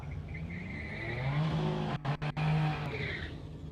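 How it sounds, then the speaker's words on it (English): A V6 drag car does a burnout at Warwick Dragway, engine roaring loudly with squealing, skidding tyres that swell, cut out briefly in a few quick gaps, then return before fading. "Definitely got the V6 sound to it"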